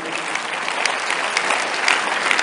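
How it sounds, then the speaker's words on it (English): A church congregation claps during a sermon, with loud, continuous, close applause filling the whole moment and no speech over it. "I'm waiting for those who are not clapping to join you"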